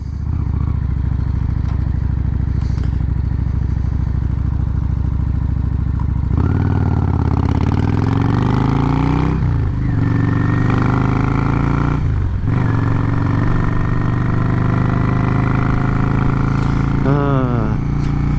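A motorcycle engine idles steadily up close, then revs up and down in several rising and falling surges, with a quick burst of throttle blips near the end.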